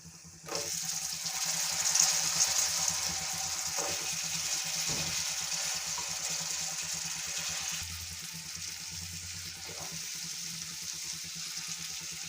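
Potatoes tipped into hot oil mixed with spices for a masala potato dish, giving a steady, fairly loud frying hiss that continues evenly throughout, with faint clinks from the pan.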